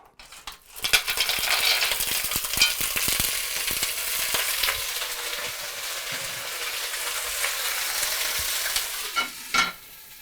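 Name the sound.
Manila clams sizzling in oil in a pan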